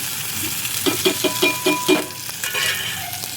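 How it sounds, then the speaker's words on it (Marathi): Tomatoes cooking with turmeric, chilli powder and salt in a pan, stirred with a utensil, giving a series of quick scraping strokes over a steady sizzle, close and fairly loud. "टमाटर चांगले शिजले पाहिजे तोपर्यंत त्याला हलवा मस्त"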